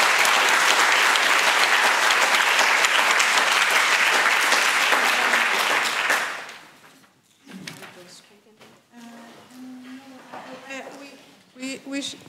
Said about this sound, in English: Could we have a round of applause for the two excellent speakers?